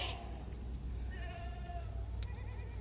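Goats on a goat farm bleat in several overlapping, wavering calls, one of them rising shrilly, over a constant low rumble of background noise; the calls sound moderately distant and nobody talks.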